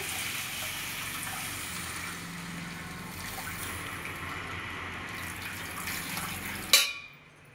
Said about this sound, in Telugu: ఇప్పుడు చింతపండు, టమోటాలు కలిపి పెట్టుకున్న వాటర్ని ఈ తిరగవాతలో వేయాలి